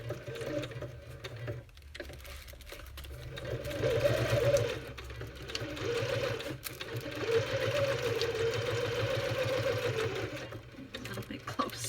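Sewing machine backstitching thread onto a floral junk journal tag, a steady fast mechanical whirr of needle strokes running nearly throughout, with short pauses and speech-like sounds mixed underneath.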